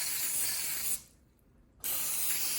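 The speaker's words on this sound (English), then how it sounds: "Spray where your eggs are gonna be with the spray." Two bursts of aerosol cooking spray hissing close by onto a baking dish, separated by a short pause, loud and steady while spraying.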